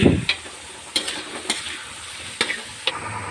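Onion and spice masala of ginger, garlic and onion frying in a pan, with soft sizzling broken by several sharp stirring scrapes and clicks spread through the clip, no voices.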